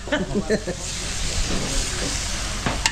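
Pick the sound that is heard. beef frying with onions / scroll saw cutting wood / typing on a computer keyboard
beef frying with onions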